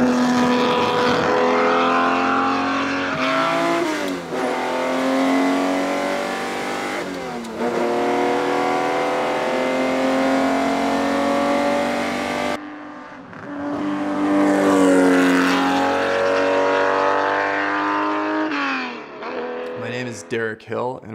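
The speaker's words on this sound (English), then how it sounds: "the engine and the sound blaring out the back" A 1964 Ferrari 250 GTO Series 2 engine revs hard while driving, its loud, blaring exhaust rising and falling through repeated accelerations and gear changes, close and continuous.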